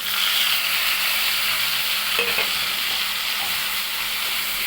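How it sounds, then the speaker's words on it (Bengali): Spice paste frying with cumin in a pan, a loud continuous sizzle and hiss close by, with a faint utensil scrape as it is stirred, no talking. "মশলাটা দিয়ে একটু নাড়াবো, কষাবো।"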